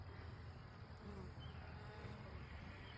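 A honeybee swarm hovers in one spot near a hive box during a swarm capture, giving a faint, steady buzzing drone with no break.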